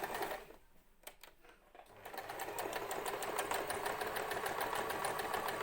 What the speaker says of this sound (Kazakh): Міне осылай автомат тігеді.